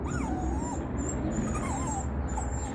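Puppies whimper in thin, wavering high whines that rise and fall over a steady low rumble of outdoor background noise, the cries moderately close and repeating through the clip.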